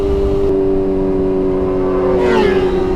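Superbikes race at night through Dallas tunnels: a loud, steady engine drone fills the space, then a bike screams past near the end with a sharp rising whine, echoing off the tunnel walls.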